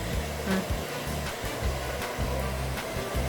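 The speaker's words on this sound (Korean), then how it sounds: "드라이기도 두 명이 달라붙어야 돼." Hair dryer blowing steadily as a pet is dried after its first bath, a continuous close whir with slight wavering pitch as the airflow shifts, with no voices.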